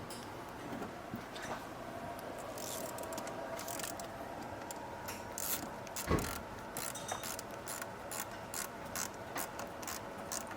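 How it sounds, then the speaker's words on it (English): Quiet ratcheting clicks while a hose clamp is tightened on a Kia Stinger intake, a close, faint run of rapid ticks with one sharper knock midway and no talking. "let's first tighten this hose clamp down here"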